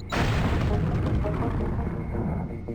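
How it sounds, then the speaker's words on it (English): In Deus Ex, explosives blow open a nautical door with a loud, sustained blast and rumble that fills the whole moment and slowly fades. "This nautical door can be blown up with explosives in retail."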